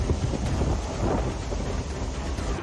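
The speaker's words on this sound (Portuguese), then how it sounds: "Neste panorama, veremos como o vento forte causa estragos." Strong, damaging wind blowing through a natural disaster scene, a loud continuous roar with gusting rumble and buffeting across the whole span, no talking.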